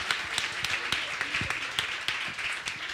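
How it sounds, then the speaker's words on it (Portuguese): Audience at a youth gathering in Piracicaba clapping for someone called to the front, close, lively applause with distinct individual claps standing out over the crowd, carrying on steadily throughout. "uma salva de palmas para ele"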